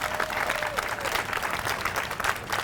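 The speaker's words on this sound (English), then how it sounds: "Can we have another round of applause for Michelle and all of our award recipients today?" Steady applause from an audience at a domestic violence coalition awards event, many hands clapping densely and continuously at a moderate level, with faint crowd murmur underneath.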